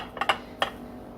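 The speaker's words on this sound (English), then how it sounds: "Sorry for the glass banging" A glass baking dish knocks and clinks a few times while slider rolls are pushed into it, three or four short, sharp taps close by in a quiet kitchen.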